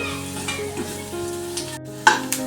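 Spices are stir-fried in a pan for a spicy dahi bhindi masala, a close sizzling hiss with scraping stirring strokes and a few sharper clatters toward the end.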